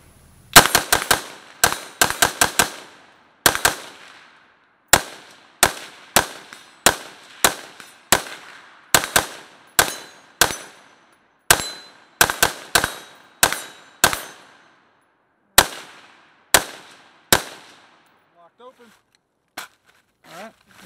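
A 14.5-inch BCM AR-15 upper firing a magazine outdoors, loud sharp gunshots in quick bursts and irregular single shots, close to the microphone, tapering off near the end with faint talk.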